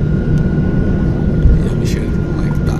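A steady, loud jet engine roar hums inside an airplane cabin as it taxis slowly along the runway, with a faint voice murmuring underneath.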